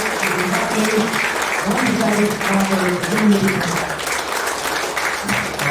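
A crowd applauds steadily throughout at a boxing awards induction ceremony, a dense wash of clapping with voices audible beneath it.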